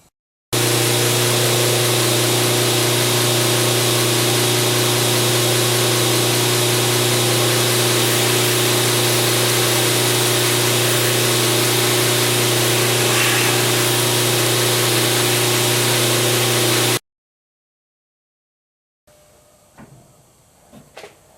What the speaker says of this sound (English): I'm trying to grind away the part which I think needs to be fixed.